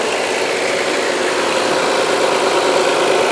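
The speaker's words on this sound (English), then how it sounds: "Idle high. Warms up. Idles down." A turbocharged Audi S4 Avant engine idles steadily and close by, a constant broadband rumble holding level throughout with no voices.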